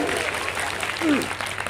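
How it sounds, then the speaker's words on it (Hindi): A crowd at a Hindi poetry gathering (kavi sammelan) in a college applauds, brief steady clapping with a voice sounding faintly beneath it. "एक बार जोरदार तालियां हो जाए कुंवर जी के लिए।"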